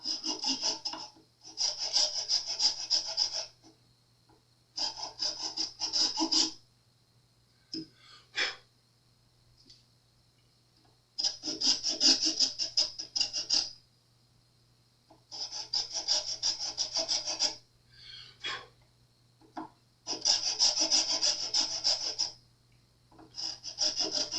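Metal file rasping at an angle across the nut slot of an Epiphone Casino guitar to take off a burr: about six close, scratchy bursts of a few seconds each, separated by short quiet pauses and small taps.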